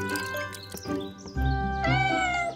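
A cartoon mother cat calling her kitten gives a long, loud, drawn-out meow with a rising wail near the end, sounding close and clear with no talking over it.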